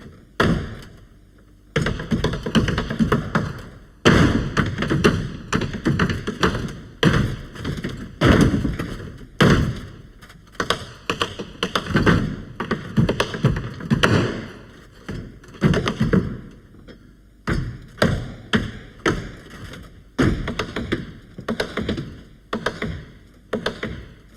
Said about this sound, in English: The aim was to start with the sound of a boot, a single tap, and then do 2 of them